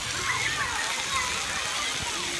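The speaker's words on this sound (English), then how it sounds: "So I thought I'd bring them down here into the water park." Water splashing and sloshing at a water park on a hot Sunday afternoon, a continuous busy wash of spray with children's voices and adult talk mixed through it.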